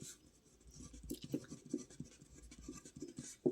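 Pen or chalk scratching out numbers by hand for a multiplication table, a soft, close run of scribbling strokes and taps over a low hum, with no voice.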